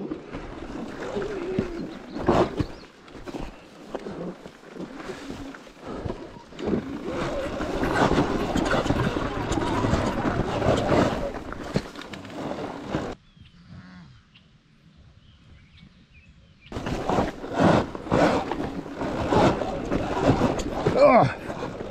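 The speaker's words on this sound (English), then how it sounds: "Do you guys think that I can make it through this crazy field of dirt clumps with the Sur Ron?" Sur Ron X electric dirt bike riding over a field of dirt clumps on grass trails, with wind buffeting the microphone, loud rattling and clattering bursts, and a quiet gap in the middle before the riding noise returns; a voice is heard briefly.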